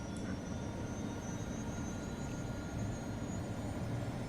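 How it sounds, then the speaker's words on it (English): Helicopter engine and rotor noise from the Sea Power naval warfare game, a steady low broadband drone with a faint whine, running evenly and continuously at moderate level with no talk. "And rotors will start, helicopter will move out"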